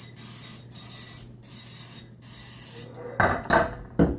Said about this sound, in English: So I'm just going to go ahead and spritz.